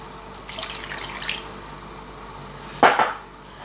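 Water pours into a cooking pot for beef adobo with coconut milk, first as a short splashing stream, then a louder brief gush near the end, with no talking.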